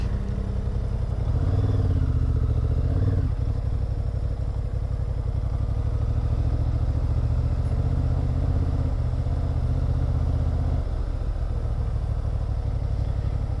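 A Honda Hornet 750 cc motorcycle engine rumbles steadily at close range, a low, even throb that holds for the whole stretch with only slight changes in pitch.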